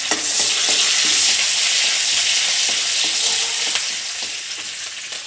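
Green chillies and curry leaves fry in hot oil for khichdi, a loud, steady sizzle with crackling pops and occasional stirring scrapes, close up and without voices.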